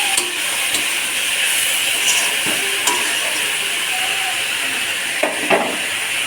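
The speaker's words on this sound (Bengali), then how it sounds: "এটা ভালো করে ভেজে নিচ্ছি।" Food fries in a pan with a loud, steady sizzle that lasts throughout, broken now and then by soft stirring scrapes.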